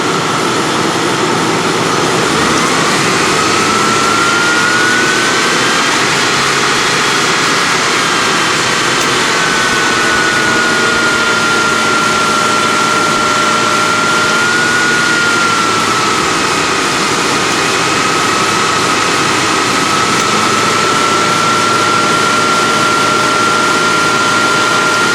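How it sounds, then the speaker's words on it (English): A 1995 Ford Crown Victoria engine revs with its A/C compressor running, giving a steady, loud mechanical drone and a thin whine that holds through the whole stretch, with no voices. "See what happens if we increase the compressor speed now."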